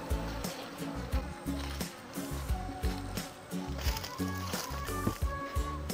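Honeybees buzz close by in a dense, wavering drone, with low thumps and handling knocks pulsing underneath as a drone-laying hive is merged with a nucleus colony.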